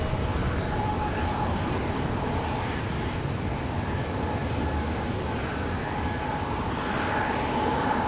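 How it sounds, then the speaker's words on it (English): A Delta CRJ regional jet sits on the ramp at Raleigh-Durham International Airport at night during pushback, giving off a steady, loud broadband engine roar with a faint whine that holds unbroken throughout. "We've got a Delta CRJ pushback over here on the other side"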